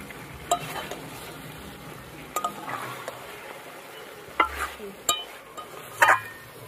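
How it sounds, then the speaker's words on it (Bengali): A spoon stirs chicken curry in a pot with fried onions, a low sizzle running under it, with scattered scraping clinks against the pot at irregular intervals, close by. "ভালো করে নেড়ে নিলাম।"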